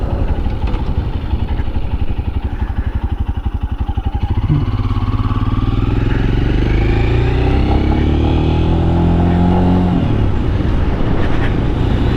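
A Royal Enfield Scram 411 motorcycle on a first ride: the single-cylinder engine thumps at idle, then revs climb and fall through the gears as it pulls away, loud and close throughout.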